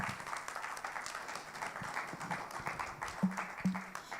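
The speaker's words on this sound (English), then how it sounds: "Ladies and gentlemen, a round of applause for our panel." An audience at a handover ceremony applauds a panel with scattered, fairly faint clapping heard from a distance, a few louder claps near the end.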